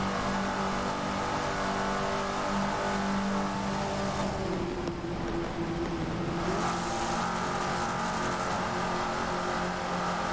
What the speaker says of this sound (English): The crackling of the exhaust here in the front-wheel drive ACR SRT Dodge Neon